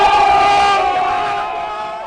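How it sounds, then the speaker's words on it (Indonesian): A loud crowd cheers and shouts together, the sustained roar gradually fading. "Tepuk tangan dong."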